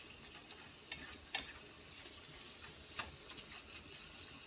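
A liver and burger mixture frying in a pan on medium-high heat, a soft, steady sizzle with a few faint ticks and scrapes, quiet and continuous.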